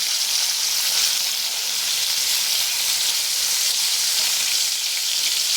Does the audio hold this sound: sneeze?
no